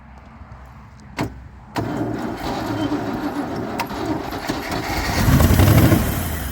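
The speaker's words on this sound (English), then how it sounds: "we've got a running V8, Keith." A Range Rover Classic pickup's V8 engine, parked for over 20 years, cranks and catches, then settles into a rough rumbling run that swells louder toward the end, with a sharp clunk just before the engine catches.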